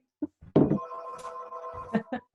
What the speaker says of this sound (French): il n'y a pas personne dans la maison, mais le téléphone sonne.